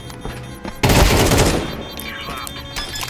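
A sudden burst of rapid gunfire from the Counter-Strike game cuts in loudly and fades over a second or two, with game sounds and brief voices around it.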